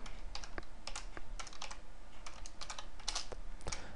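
Keys clatter on a computer keyboard in quick, uneven bursts of close, crisp clicks, with brief pauses between runs of typing.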